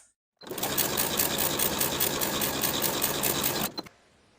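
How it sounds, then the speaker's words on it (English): A sewing machine runs one continuous burst of stitching along a long seam on a folded pajama strap, a fast even whirring rhythm heard up close, starting and stopping abruptly, with no voices. "Sew with a 3/8 inch seam allowance."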